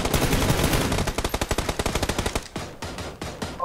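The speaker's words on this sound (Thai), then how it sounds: "ต้องยิงแล้วต้องยิงแล้วโดน" Video game machine-gun fire rattles out in a fast, loud, continuous burst of evenly spaced shots that slows into a few separate pops near the end.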